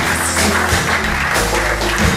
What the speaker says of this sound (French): On va applaudir à la gloire de Dieu